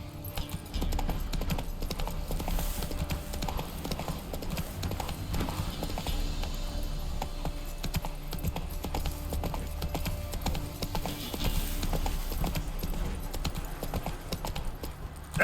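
Roach, Geralt's horse in a modded Witcher 3, gallops with steady, rapid clip-clop hoofbeats throughout, loud and close over a dense game soundscape, with a faint whinny and a little speech mixed in.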